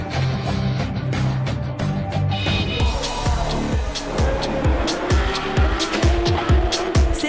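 Porsche Carrera Cup race cars on the Bugatti circuit, engines roaring loudly as cars pass close, with gear changes and rapid revving pulses building toward the end.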